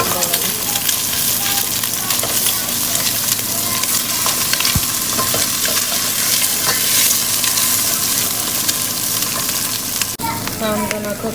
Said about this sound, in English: And now I'm gonna break 2 eggs in there. And I'm going to start scrambling it.